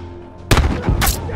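A grenade blast in The Last of Us Remastered multiplayer on the Lakeside map: one loud, close explosion hits suddenly after a quiet stretch, followed by a second burst of crackling debris and rumble.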